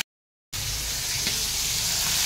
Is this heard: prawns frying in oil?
yes